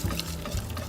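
A whisk works a gravy-powder slurry into beef and Guinness pie filling in a pan, giving a close, continuous wet stirring and scraping sound over a brief span.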